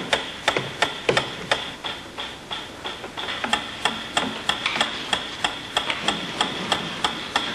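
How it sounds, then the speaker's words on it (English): Steady ticking of a metronome used as a stimulus during a dog conditioning experiment, with evenly spaced sharp clicks repeating roughly every third of a second, close and clear over a faint background hiss. "A ticking metronome."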